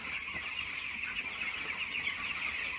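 Chickens in a poultry shed with raked bedding cluck softly in a constant low murmur that fills the background at moderate loudness, with no voices.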